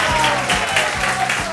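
A studio audience applauding during a variety show, a dense burst of clapping from a crowd, close and loud, with a voice talking over it.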